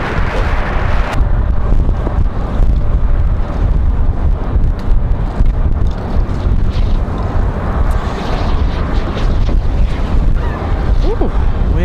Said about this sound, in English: Ooh, wind is a whipping,